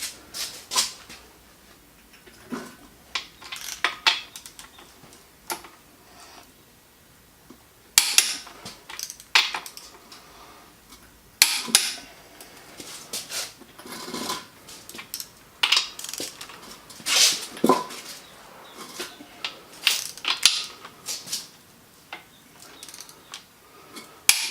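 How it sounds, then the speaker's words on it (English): A wrench turning a nut on a stud during assembly of an FE engine's crank and rear seal, giving scattered metallic clicks, ticks and clinks in irregular bursts at close range, with no talk. "And then now I'm back to just turning nut."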